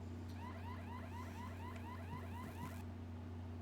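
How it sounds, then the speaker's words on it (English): In the video game Horace, an electronic alarm wails in a rapid, repeating chirping sweep, like a car alarm, over a steady low hum, then cuts off abruptly near the end. "but soon an alarm went off"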